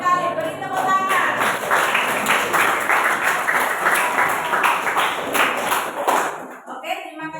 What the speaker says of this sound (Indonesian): Ya, bagus sekali, beri tepuk tangan.